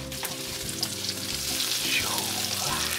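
A turkey sandwich sizzling in a pan just after being flipped, with a constant close crackle and light spattering, steady and loud, with no talk.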